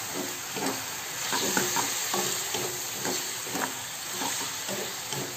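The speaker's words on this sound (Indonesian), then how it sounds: "Kita aduk ya." Chicken and mushroom topping for mie ayam being stirred in a pan with sweet soy sauce: steady sizzling and hiss with repeated scraping strokes of a spoon, close and fairly loud, no talking.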